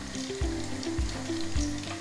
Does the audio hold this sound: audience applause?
no